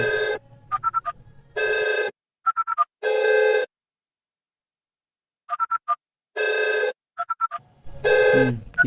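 A VoIP telephone rings during a router call test, sounding repeated electronic ring bursts that alternate with short warbling trills and fall silent between cycles. Faint background noise sits under the start and end.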